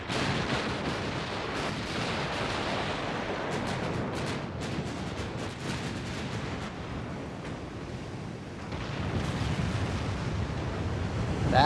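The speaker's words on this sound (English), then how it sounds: "That sounded like a big fucking explosion." Heavy rumbling blast from a large warship's magazine detonating in the naval game Ultimate Admiral: Dreadnoughts, a long roaring boom with crackling bursts that fades and then swells again.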